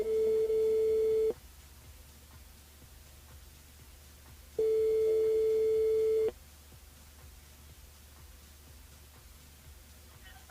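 A telephone line ringing during a live radio call, two long steady electronic tones a few seconds apart over a quiet background.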